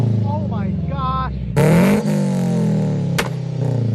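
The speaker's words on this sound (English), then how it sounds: "for the catback system, I'm running a Buddy Club single exit titanium" A boosted widebody FRS/BRZ/GT86 revs hard through a Buddy Club single-exit titanium catback exhaust: one sharp, loud blast right after an excited voice, then a droning rumble and a quick second blip.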